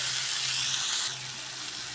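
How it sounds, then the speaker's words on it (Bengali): Onion and tomato fry in a pan with a steady, close broadband sizzle that stays even throughout, softening slightly partway through, with no talk. "পেঁয়াজ টমেটোটা খুব ভালো করে ভেজে নেব।"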